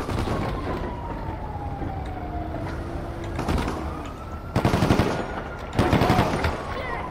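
Gunfire in the video game GTA 5 comes as two loud bursts of rapid machine-gun shots late in the clip, over a siren-like wail and game background noise.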